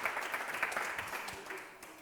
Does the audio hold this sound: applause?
yes